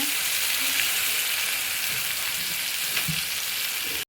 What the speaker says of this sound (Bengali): মটরশুঁটি দিয়ে দিচ্ছি, দিয়ে আবার একটু নাড়াচাড়া দিয়ে দিচ্ছি